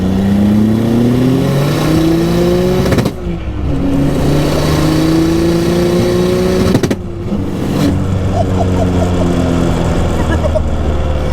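A built 2JZ turbo engine in a 1992 Toyota Cressida accelerates hard in second gear, its loud roaring pitch climbing steadily, breaking at shifts with brief turbo whooshes, then rising again, heard up close from inside the car.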